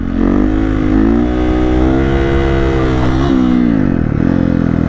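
A Husqvarna FE501 motorcycle engine revs hard and steady under throttle, a loud, close, continuous drone that climbs in pitch, dips briefly near the end, then rises again.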